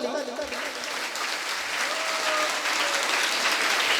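An audience at a mangal kalash sthapna religious gathering in Bina, Madhya Pradesh, claps continuously and fairly loudly, while a voice carries over the top of the clapping.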